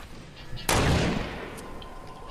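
Gunfire in an online shooter video game: one sharp, loud blast bursts out and decays over about half a second, with quieter game ambience around it and no talking.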